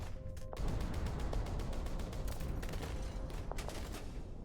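Rapid bursts of gunfire rattle through a street gang war in the video game Love and Deepspace, dense repeated shots over a constant loud ambient din with no talking.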